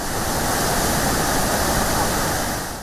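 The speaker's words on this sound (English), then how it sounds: "The water is taken away through a spillway, an open spillway, and the water goes back to the river." Water rushing down the open spillway of a dam on the Seven Forks scheme in Kenya, a loud, steady broadband roar that stays constant throughout.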